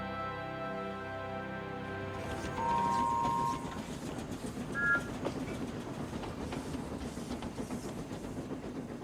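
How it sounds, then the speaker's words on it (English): A steam locomotive in the Trainz video game chuffs steadily with a rhythmic hiss and rattle, following a brief tonal whistle-like passage at the start. "Thomas rolled back down the hill and puffed onto Wellsworth Station."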